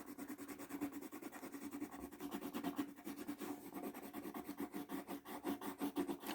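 Pencil crayon scratches across paper in quick, rhythmic back-and-forth strokes while colouring. The sound is close, soft and continuous, with no talking.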